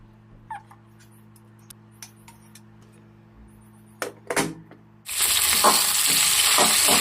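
Green chillies and tomatoes for tomato chutney start frying in a home kitchen with a loud, steady sizzle, after quiet clinks and a few brief thumps. A low hum runs underneath and no one speaks.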